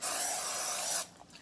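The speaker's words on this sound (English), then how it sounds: "I'm just going to use a little spray butter, some Crisco or Pam" Non-stick cooking butter spray hisses in a single close, loud burst lasting about a second as it coats a cake pan, then cuts off abruptly into quiet.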